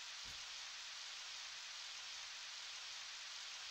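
Steady, soft hiss of rain falling in Harvest Moon 64, an even, unbroken wash of rain noise lasting the whole stretch, cut off by a short louder sound at the very end.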